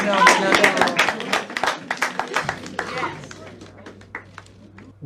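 Scattered clapping from an audience comes in sharp, uneven claps under a speaking voice at first, then thins to sparser, quieter claps over a low steady hum.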